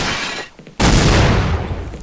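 Bots firing at a shield in Counter-Strike Condition Zero: a dense burst of gunfire breaks out loud and close after a brief lull, continuing as a sustained volley.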